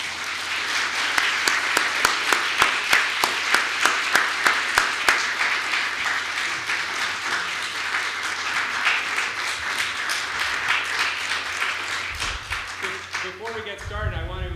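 Sustained audience applause at a university lecture welcoming a botanist and author, dense steady clapping throughout that thins near the end as speech begins.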